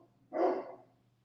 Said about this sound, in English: The dogs are barking like somebody's at my door.